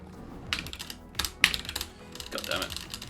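Keys clacking on a small, loud computer keyboard in a few uneven bursts of taps at close range, with faint background sound between them.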